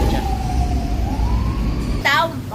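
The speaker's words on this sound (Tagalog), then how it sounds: "Ayan, at may ambulansya." An ambulance siren wails through slow traffic on Commonwealth Avenue during road construction at night. A steady, sweeping tone carries over the dense road rumble, with a brief burst of a different warbling siren near the end.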